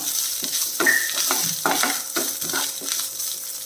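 Grated coconut being stirred into cowpeas and garlic frying in a pan, with a steady sizzle under repeated scraping stirs of a spoon, close and without talk.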